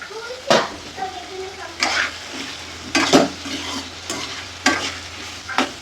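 Potato curry cooking in a pan, a steady low sizzle broken by several sharp scraping stirs of a spoon against the pan at regular intervals, close and fairly loud.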